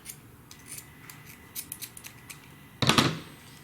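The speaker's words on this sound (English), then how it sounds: "You're going to take a pair of scissors and you're going to cut" Scissors snip a rubber balloon: several small, light clicks of the blades, then one louder, sharper cut near the end, heard close and alone without speech.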